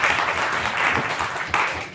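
Audience applause at a public discussion on utility regulators and citizens, a steady dense patter of many hands clapping across the whole stretch, moderately loud, with a brief surge near the end.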